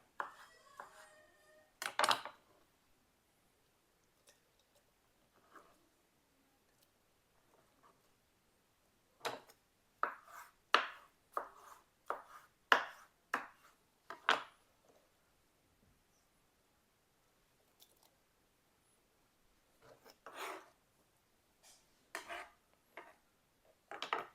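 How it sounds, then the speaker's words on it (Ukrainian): A knife cuts mushrooms into large pieces on a board, making quiet, sharp taps in short clustered bursts separated by near-silent pauses. "Великими кусками нарізаємо гриби."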